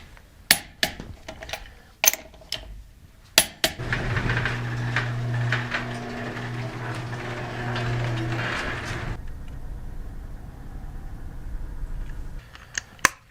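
A cordless Harbor Freight impact wrench hammers lug nuts tight on a 4Runner wheel in a loud sustained burst of several seconds, framed by sharp clicks and clanks of handling before and after.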